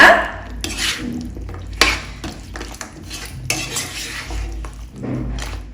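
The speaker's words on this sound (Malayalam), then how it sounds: "ഇനി ഇതിന് നല്ലതുപോലെ മിക്സ് ചെയ്ത് കൊടുക്കുക" Scraping and clinking of a spoon stirring thick chicken pickle in a metal pot, with a few sharper knocks against the rim, fairly close.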